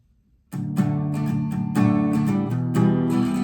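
After a brief silence, a guitar starts strumming the chorus chords of a song in a steady rhythm, a short, clear passage with no singing or talking.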